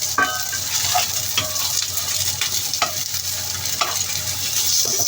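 Fried taro cake with minced pork and chive reheats in a pan with a steady close sizzle, punctuated by light scraping stirs and clicks of a utensil against the pan.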